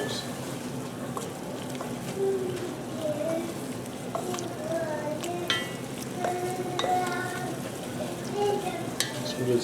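Stirring vegetables into a sizzling pot of pastalaya, a steady fry with scraping spoon strokes against the pot, close up, while someone talks over the cooking.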